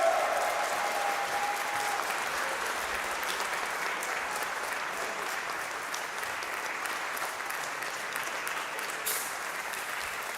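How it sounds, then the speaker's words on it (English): Large crowd applauding steadily for the overall British Rental Kart Champion of 2026 at a karting championship ceremony, with dense sustained clapping that stays loud and even throughout. "Let's hear it, a big cheer"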